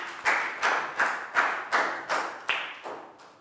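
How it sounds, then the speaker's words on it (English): Students in a Year 3 classroom give a round of applause: about eight sharp, evenly spaced claps, close by and fairly quiet, with no talking. "High five, round of applause for Stu."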